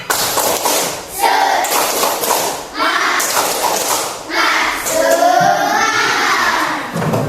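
A class of children claps in a patterned rhythm led by a teacher, sharp bursts of hand claps separated by short pauses, with children's voices mixed in.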